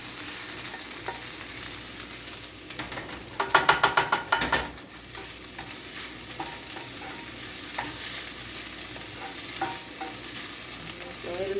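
King oyster mushrooms frying in a pan give a steady sizzle, with a short burst of louder clattering stirring scrapes partway through, then the sizzle continues alone.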